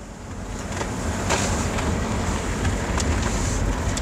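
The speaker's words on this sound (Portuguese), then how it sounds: "é melhor fechar a janela, tá um vento meio forte" Strong wind rushes past a car on a newly built stretch of highway near Campina Grande, a loud steady buffeting roar heard from inside with occasional gusts, no voices.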